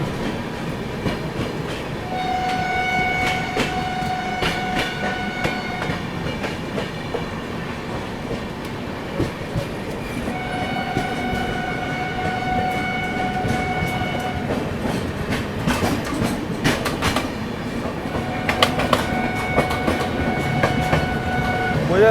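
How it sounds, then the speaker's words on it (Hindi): Udhampur–Subedarganj Express, the Shaheed Kaptan Tushar Mahajan train, rolls past steadily with continuous rumble and clickety-clack of wheels, its horn sounding in several long blasts, loud and close throughout. "शायद से उधमपुर सूबेदारगंज एक्सप्रेस है"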